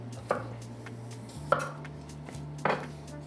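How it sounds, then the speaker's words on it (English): A knife slices a jalapeno on a board three times, evenly spaced crisp taps over a low steady hum. "So we'll slice it down the middle and then take the seeds out."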